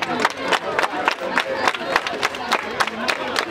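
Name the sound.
crowd applauding and cheering at an event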